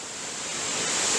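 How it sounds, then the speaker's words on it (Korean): Mountain valley stream in a forest after overnight rain, its steady rushing wash of water filling the whole short clip without pause, close and fairly loud, with no voices. "계곡 물소리도 엄청 엄청 시원하게 들리고"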